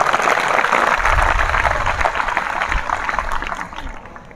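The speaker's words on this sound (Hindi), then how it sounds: "इन सभी वैज्ञानिकों के लिए एक बार पुनः जोरदार ताली।" An audience applauds the Chandrayaan-3 mission scientists at an event, a dense wash of clapping that swells and then gradually fades away over several seconds.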